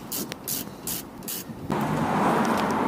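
Bolt Buster penetrating spray hisses from a can onto a seized car brake bolt, first in several short bursts and then in one longer steady spray, fairly close.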